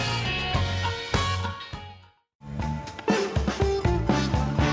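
A radio show jingle plays the music that introduces the answer man segment. It is a busy, full-band tune that drops out for a brief gap and then returns loud and lively, with no voices.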